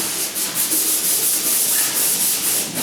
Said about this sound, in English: So see, I'm almost done with this small little sanding bit.